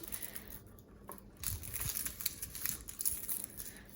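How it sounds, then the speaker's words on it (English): Dry papery skin being peeled off half an onion for salsa, giving soft crinkling and crackling close up, quiet and continuous over a few seconds. "now I'm just gonna use peel the half of the onion"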